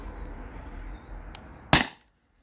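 A Beeman BP50 air pistol fires a single sharp, loud shot near the end, cutting through a steady low background hum before the sound drops away to silence.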